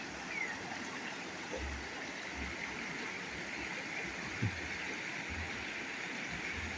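Steady rushing of a mountain stream tumbling over rocks people have stacked into a small waterfall at a riverside resort in Vang Vieng, a continuous even wash of water with no break.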